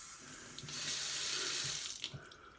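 Water runs from a newly replaced kitchen sink faucet, a steady close splashing rush with small bumps and clunks, no talking.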